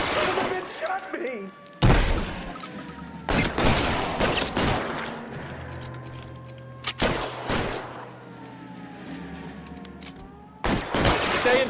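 Several sharp, loud gunshots crack in the L.A. Noire video game, coming in separate bursts at uneven intervals, with a low engine-like hum and tense voices between the shots.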